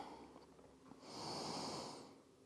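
A single slow, deep breath drawn through the nose during a thread-the-needle yoga stretch rises into a soft, airy rush and fades, close and quiet, with no talking.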